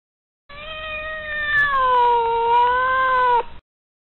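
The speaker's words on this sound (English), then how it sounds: "Cat." A single drawn-out cat meow, loud and close, with a slightly falling, wavering pitch lasting about three seconds, alone.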